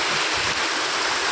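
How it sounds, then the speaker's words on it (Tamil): Heavy rain pours down in a steady, dense hiss that holds at an even loudness throughout, with no voices over it. "மானமே தெரியல மழையே பயங்கரமாக இருக்குது"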